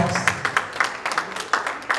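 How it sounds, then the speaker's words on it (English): Brief applause from an audience at a Lagos general meeting and conferment ceremony, a steady patter of claps running through the whole stretch at moderate loudness. "A round of applause"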